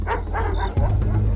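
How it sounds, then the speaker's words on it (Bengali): Village dogs bark at night, a few sharp close barks and yips in quick succession, loud and alone. "দু একটা কুকুর আমাকে দেখে ঘেউ ঘেউ করে ডেকে উঠল"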